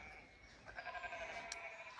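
A sheep bleats faintly in a farm field, sounding distant and quiet with a short wavering call or two midway through.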